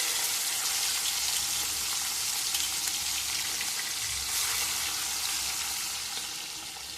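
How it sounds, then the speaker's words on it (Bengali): Shrimp fry in a pan with a steady, even hiss of sizzling oil that holds throughout and eases slightly at the end, with no voices over it. "এবার চিংড়ি মাছগুলো দিয়ে দিলাম"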